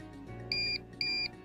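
Two identical electronic beeps from a monitor sending data, evenly spaced and clear above a quiet, humming background.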